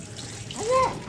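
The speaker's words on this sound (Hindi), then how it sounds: "पानी छन्नी में जाना भी नहीं है, वो तो छन्नी में सिर्फ पास्ता जाना है।" Water from cooked pasta pours through a strainer in a home kitchen, a brief, close splashing rush lasting about a second.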